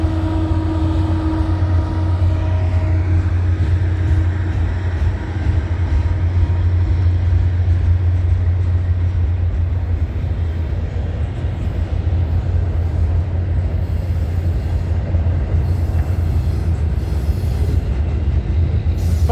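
A CN freight train with a distributed power unit passes trackside at night, producing a loud, continuous close rumble of rolling cars and engine drone with no break throughout.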